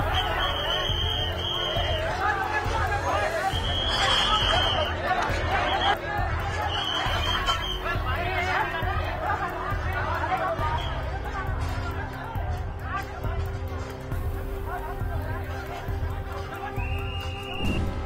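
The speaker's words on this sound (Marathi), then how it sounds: "यात रांगेत ग्राहकांमध्ये काहीतरी बाचाबाची सुरू झाली आणि या वादाचं रूपांतर थेट हाणामारीत झालं" A dense, agitated crowd of customers in an iPhone store queue in Mumbai's BKC, a steady roar of overlapping shouting voices with sporadic louder cries throughout.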